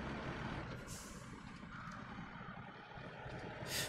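A truck driving in a bridge repair video game, with a steady low engine rumble broken by short hissing air-brake bursts near the start and end.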